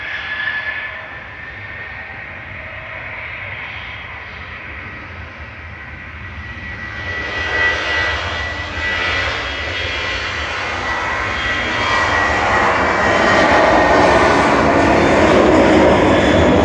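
A Ryanair jet takes off at Manchester Airport, its engine roar steady at first and then building louder and fuller as the plane climbs away, heard from a distance with no talk.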